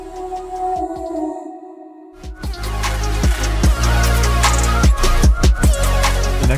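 A vocal sample in FL Studio, processed with Fruity Vocoder, panning and delay, makes a dense, loud ambient wash. A sustained tone drops out briefly, then returns fuller with rhythmic pulses and delay echoes.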